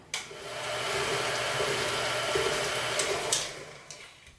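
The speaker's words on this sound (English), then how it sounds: "And go ahead and blend that." A blender whirs through waffle batter spiced with cinnamon, a steady close motor roar lasting about four seconds with a sharp start and a few small bumps as it runs.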